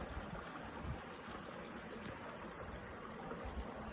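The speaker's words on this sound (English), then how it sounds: "I'm so happy to be sharing this video from this beautiful river." River water flowing around someone standing in the river, a steady broadband rush with low rumbling swirls, continuous and close.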